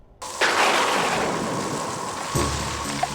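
A thunderstorm rages on a stormy night in a Hindi movie scene: a sudden roar of heavy rain and rumbling thunder swells in and holds loud and steady, with a brief surge near the end.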